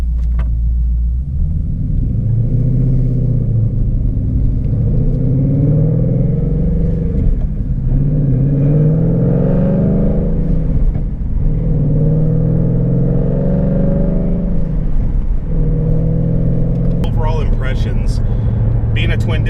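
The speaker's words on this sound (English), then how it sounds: "So we're gonna go ahead and take this car on a little bit of a test drive here" Ford Mustang GT with a twin-disc clutch on a test drive, a loud close engine rumble rising and falling through repeated gear pulls while someone talks over it.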